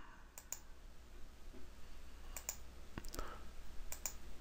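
Mouse buttons click in a quiet room while takeoff work starts in construction estimating software, a few sparse crisp clicks, some in quick pairs, over faint background hiss.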